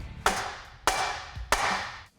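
Three sharp metallic hammer strikes on a truck's stainless steel exhaust pipe land about half a second apart, each ringing briefly before fading, close and fairly loud.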